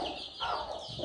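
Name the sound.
Sussex chicken clucking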